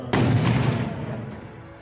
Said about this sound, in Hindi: आतंकवादियों का ये ट्रक जल रहा है और उसमें धमाके हो रहे हैं